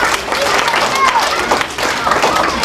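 Audience applause at a library magic show, a short burst of scattered clapping from a small crowd, with a voice speaking over it.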